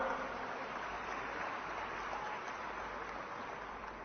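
Audience applause for Vishnudev Sai at a political gathering in Chhattisgarh, a steady, dense clapping wash that holds evenly for the whole stretch without pauses or voices.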